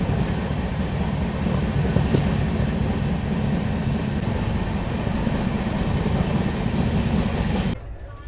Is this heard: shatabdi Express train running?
yes